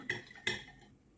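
Two quick metallic clinks of a spoon against a container, close and faint, as sugar is stirred into vodka.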